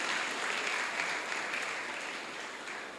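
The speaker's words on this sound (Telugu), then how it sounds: "మరొకసారి వారి చప్పట్లు కొట్టి మనం చేస్తాం" Sustained applause from a church festival crowd honoring the youth crib, chariot and pandal decoration teams, a dense, even roar of many hands that fades slightly toward the end.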